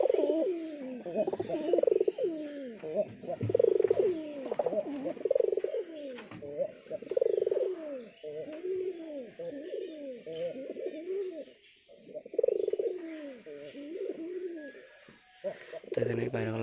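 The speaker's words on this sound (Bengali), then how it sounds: "এদিকে এই যে পায়রা।" Newly acquired pigeons in a coop coo continuously close up, with overlapping rolling, throaty calls repeating for the whole stretch and only brief pauses between phrases.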